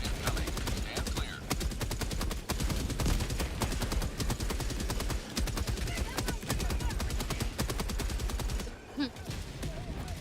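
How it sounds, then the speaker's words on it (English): Orbital barrage strikes in Helldivers 2 arrive as rapid, dense volleys of explosive impacts and heavy gunfire, sustained and loud for most of the stretch before briefly thinning near the end. "Orbital barrage incoming. Stand clear."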